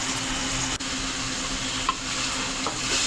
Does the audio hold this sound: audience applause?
no